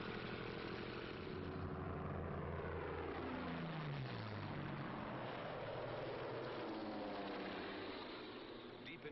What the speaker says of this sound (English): This captured film shows how quickly the 109s and the Focke-Wulf 190s got into action.